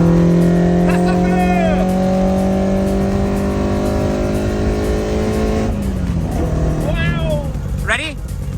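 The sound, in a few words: Toyota AE86 4A-GE engine accelerating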